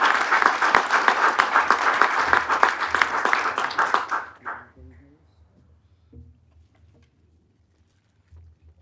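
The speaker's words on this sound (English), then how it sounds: "Let's all give them another round of applause." Applause at a county board meeting fills the first four seconds with loud, dense clapping, then breaks off into near silence with faint scattered sounds and a few voices.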